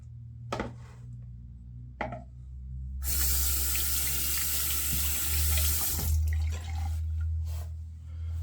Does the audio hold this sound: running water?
yes